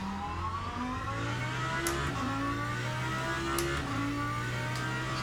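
A Lamborghini race car's engine revs hard as it accelerates out of the pits, with a high, sustained whine that climbs and shifts pitch, loud and continuous, with no voices.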